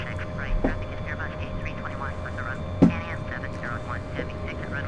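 A Boeing 707 taxis in Microsoft Flight Simulator X, its engines a steady, low, moderate drone running beneath someone talking throughout.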